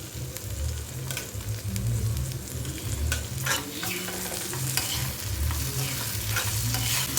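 Onions and tomato fry in a pan with salt, a steady close crackling sizzle under repeated scraping stirs of a spoon, continuous and moderately loud throughout.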